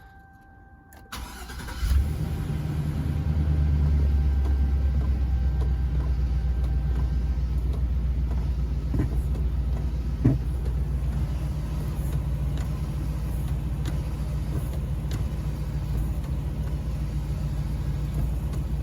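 A Chevrolet Express or GMC Savana van engine cranks and starts, then idles in a steady, loud rumble close by for the rest of the clip, with a few faint clicks.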